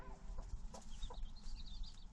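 Hens clucking softly around a coop, a few low, short clucks and murmurs with some higher chirps, faint and fairly close, with no voices.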